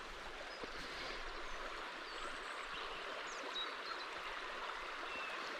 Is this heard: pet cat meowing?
no